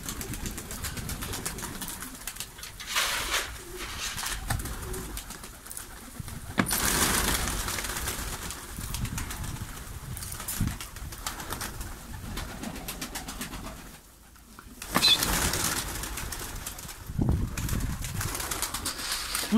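Ornamental breeding pigeons coo and call steadily in a loft in Bursa, Turkey, with occasional wing flaps and soft rustling, nearby and continuous throughout, with no talking.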